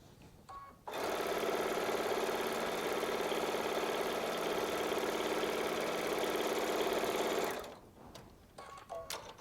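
A Baby Lock Solaris sewing machine runs in one long, steady, fast stitching burst while piecing a quilt block, loud and close, then stops abruptly, leaving a few faint handling clicks.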